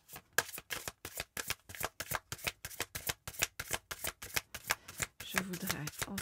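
A deck of oracle cards being shuffled by hand, about two dozen crisp rhythmic riffles in a steady beat, close and fairly quiet, with brief soft speech near the end.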